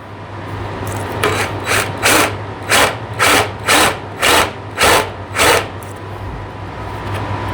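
A drill whirs in a series of about eight short rhythmic bursts over a constant low hum, as a paddle bit is worked in and out of wood.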